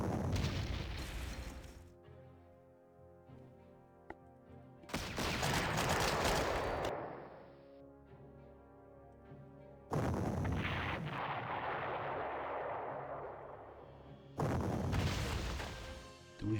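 Artillery fire in a Rommel–Manstein field marshal wargame at the Albert Canal, with four loud booming blasts in clusters, each followed by a rolling rumble that fades into quieter gaps.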